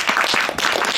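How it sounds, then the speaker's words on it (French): An audience at a French film screening and debate applauds the documentary's director, a dense, steady burst of clapping filling the whole short moment without pause. "qu'on peut applaudir s'il vous plaît"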